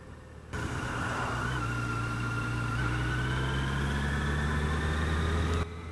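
A garbage truck engine rumbles steadily at close range, a deep low drone with a faint whine above it, holding for several seconds before cutting off.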